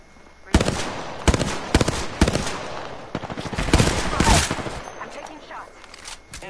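Gunfire from a Fortnite-style battle royale game, with several sharp bursts of rapid shots coming in quick clusters, a loud and close volley near the end, and a voice talking in between.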